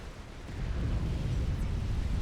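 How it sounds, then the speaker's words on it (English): A short, deep rumbling blast swelling into a sustained roar, an explosion in the strategy game Supreme Commander. "Explosions happening."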